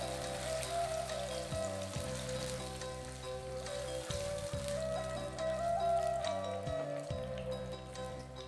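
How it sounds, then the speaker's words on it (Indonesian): Blended spice paste sautés in hot oil in a wok, giving a steady, close crackling sizzle that continues without a break and stays fairly even in loudness. "Kita tumis sebentar bumbuku di sana sampai harum."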